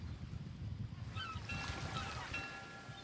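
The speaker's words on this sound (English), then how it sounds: "let's kill the harbor sounds. We don't need the birds." Harbor ambience with birds: a low rumbling wash of water and distant activity runs underneath, and faint honking calls with a few brief squawks rise in the second half, all quiet and far off.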